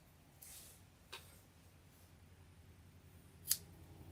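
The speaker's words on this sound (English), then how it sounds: "Do a little snip in the seam allowance." Scissors snip into the fabric seam allowance of a tote bag being sewn, two quick, faint cuts about two seconds apart in a quiet room.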